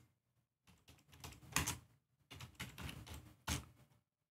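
Someone types a database backup delete command on a computer keyboard in two quick bursts of close, crisp keystrokes separated by a brief pause, ending in a firm final key press.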